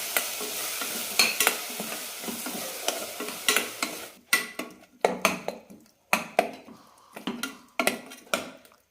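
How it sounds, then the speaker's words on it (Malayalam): Masala and ground coconut paste being stirred and mixed in a pan for a soya chunks salna curry, with a steady sizzle of frying under repeated scraping strokes of a spoon against the pan, close and fairly loud. "മസാലയും നന്നായി ഒന്ന് മിക്സ് ചെയ്യാം."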